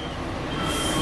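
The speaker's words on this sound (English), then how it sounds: "We about to go on a train." A zoo train at Jacksonville Zoo rolls along close by, a steady loud rumble with metallic wheel squeal rising toward the end, with no voices.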